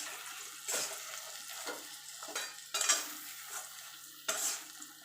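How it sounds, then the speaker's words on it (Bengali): Jujube pickle with jaggery is stirred in a pan, with a few separate spoon scrapes and clinks against the pan over a faint background sizzle, close and quiet. "দিয়ে ভালো করে নাড়াচাড়া করে নেব"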